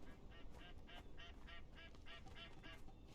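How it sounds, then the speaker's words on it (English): Geese honk overhead in the video game Conan Exiles, a quick series of about ten rhythmic, nasal calls, faint and somewhat distant over a low background hum. "I'm assuming it's meant to be geese going overhead"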